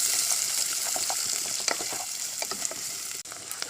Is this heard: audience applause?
no